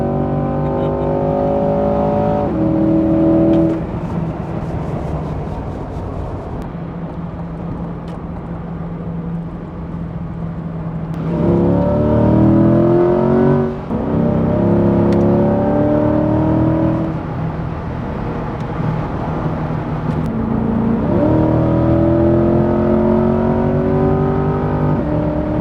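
A Ferrari supercar drives and accelerates hard on a road trip, its engine loud and close, with repeated revving climbs and gear changes rising in pitch over about twenty-five seconds.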